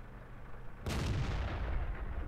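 A tank gun fires once at an enemy artillery piece in the World of Tanks video game. The sudden heavy boom rolls into a sustained rumbling tail, with no voices.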